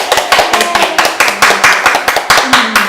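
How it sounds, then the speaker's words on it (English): Applause from a small audience at a workshop session, with distinct, fairly close individual claps in an uneven rhythm and a few murmured voices underneath. "Give her a big round of applause."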